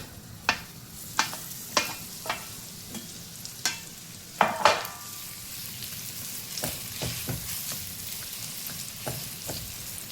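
Pitted dates frying in ghee in a pan, a soft steady sizzle with sharp clinks and scrapes of a spoon stirring them, several distinct taps early then quieter mashing, no talking.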